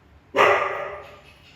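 A single sharp, close dog bark rings out at home during a haircut, followed by a fading echo-like tail, with no voices over it.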